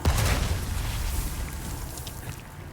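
A mine explodes in a video game: a deep, rumbling explosion booms at the start and then fades into a long, dull roar of low noise.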